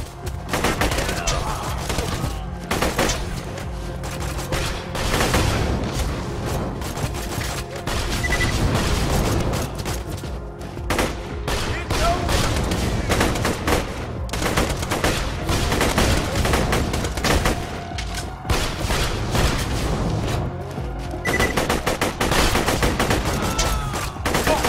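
Rapid bursts of gunfire crackle repeatedly throughout in the video game Borderlands 2, with heavy booms mixed in and a steady rumbling background, like an intense firefight.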